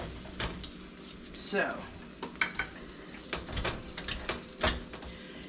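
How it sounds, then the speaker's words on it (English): A sturdy spoon stirs and smushes butter and brown sugar in a pan for saltine cracker toffee, giving irregular scraping and soft sizzling strokes; a voice speaks briefly. "I'm going to get a sturdier spoon to stir the ingredients"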